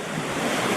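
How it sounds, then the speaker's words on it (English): Outdoors, strong wind buffets the microphone in a loud, continuous rushing roar that fills the whole brief moment with no voices. "Damn, it is windy."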